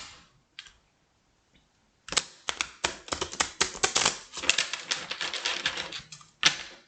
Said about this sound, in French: on va quand même battre bien les cartes